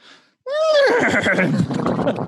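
A person imitates a horse's neigh in a Mr. Ed impersonation: one loud, close whinny that starts high, wavers and drops into a rough, fluttering nicker.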